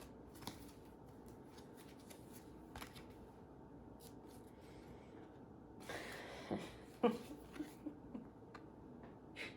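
Tarot cards being shuffled and drawn, faint papery flicks and snaps scattered through quiet, growing into a short cluster of crisp card slaps near the end.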